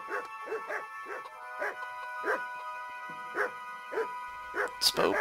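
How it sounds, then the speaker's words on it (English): Dogs barking in the Kingdom Come: Deliverance video game, a run of repeated sharp yips and barks at a steady pace that grows louder toward the end, with game ambience underneath. "Those dogs will wake him up if they bark loudly enough."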